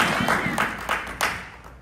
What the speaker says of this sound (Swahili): Shangilia Yesu kwa makofi.